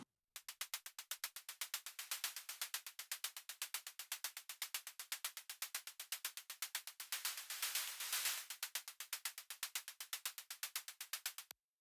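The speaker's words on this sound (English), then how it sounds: "white noise shaker, and I'm using the stock plugin by Logic called the ES2" A rapid, steady pulse of synthesized white-noise bursts, like a shaker loop, playing alone with even rhythm and a brief swell in brightness.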